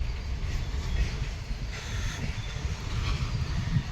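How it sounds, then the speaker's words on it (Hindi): A goods train passes on a railway track near Manak Nagar station, a steady heavy rumbling roll with low rhythmic clatter and some wind noise throughout. "इधर गुड्स ट्रेन निकल रही है"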